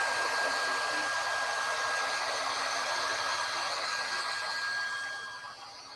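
A hot-air blower roars with a steady, close whoosh as it heats a flexible WoodUbend moulding meant for a drawer frame, fading slightly at the very end, with no talk.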